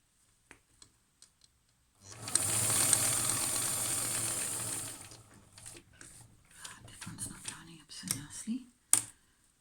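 A sewing machine runs a continuous whirring stitch along the seam of a shaped fabric face mask with a 6 mm foot for about three seconds, followed by quieter fabric handling and scattered light clicks.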